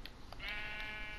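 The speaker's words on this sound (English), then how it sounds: "go back and check our farm, our sheep farm, and see how our animals are doing" Sheep on a sheep farm in the video game Minecraft, a single short, moderately faint bleat heard alone over a soft background.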